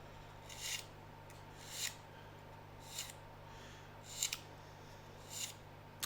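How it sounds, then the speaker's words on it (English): Five short, quiet rasping strokes at an even pace, a sanding stick dragged across scale model aircraft material with brief pauses between passes. "with the sanding stick"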